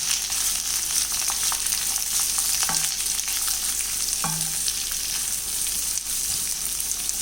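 Sliced onion sautéing in a pan for egg masala curry, a loud continuous sizzle close up with a few clinks and scrapes of a spoon stirring through it, and no voices.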